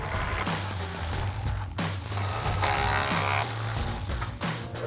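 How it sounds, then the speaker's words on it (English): A ratchet with a 10mm socket backing out grille bolts on a 2014-2015 GMC Sierra 1500 pickup, giving rapid, repeated pawl clicking in bursts, close by with no voices. "Take our ratchet 10mm socket, take those 2 out."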